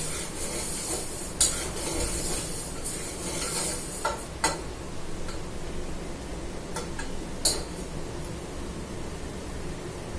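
Grains and husked moong dal roast dry in a pan for daliya, a soft steady rustling hiss broken by a few sharp scraping ticks of stirring, close and moderate.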